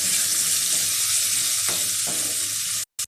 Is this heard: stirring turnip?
yes